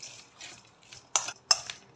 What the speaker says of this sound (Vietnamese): Rồi mình ướp đậu hũ.